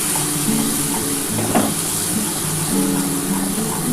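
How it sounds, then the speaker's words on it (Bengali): Spice paste for prawn malai curry fries in oil that has begun to separate, a loud, close, even sizzle broken by occasional stirring scrapes, with no voices over it. "আমি খুব সুন্দর করে কিন্তু মশলাটা কষিয়ে নিয়েছি দেখো আমার কিন্তু তেলটা ছেড়ে ছেড়ে এসছে"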